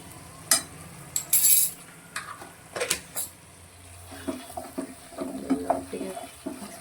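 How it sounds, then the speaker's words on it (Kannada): Spoon stirring spices together in a pan for Mangalorean prawns ghee roast: irregular scraping and clinking strokes, close and fairly quiet, with a few sharper knocks and a soft sizzle underneath. "ಇವಾಗ ಎಲ್ಲ ಮಸಾಲೆ ಒಟ್ಟು ಮಿಕ್ಸ್ ಮಾಡ್ಕೊತಿದ್ದೇವೆ ಎಲ್ಲ ಒಟ್ಟಿಗೆ."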